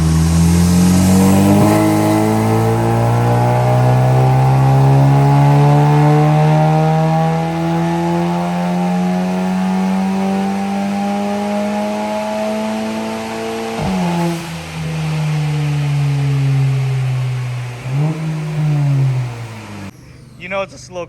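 A 2019 Mustang GT with headers, running on E85 with a 10-speed, revs hard on a dyno, its loud engine note climbing steadily through a long pull before dropping off, then a brief lift and final rev near the end.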